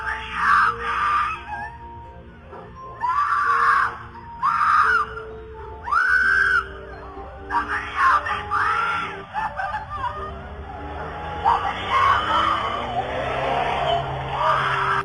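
A woman screams "Help me, somebody help me" repeatedly from a car in sharp, strained bursts while its engine roars and tires skid, captured on a neighborhood doorbell camera, the cries growing more distant and muffled.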